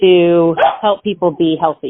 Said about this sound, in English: And I do apologize for the background noise. I have a new puppy.